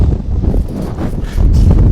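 Strong wind in Çanakkale, Turkey roars steadily and close into the microphone, a dense low rumble with gusting surges and a faint rustle of leaves.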